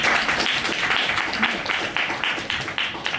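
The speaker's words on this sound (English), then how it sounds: "that's already round of applause" Meetup audience in Kuala Lumpur applauds a speaker at a cloud-native tech event, a dense steady wash of many hands clapping close by for about three seconds, with no talk over it.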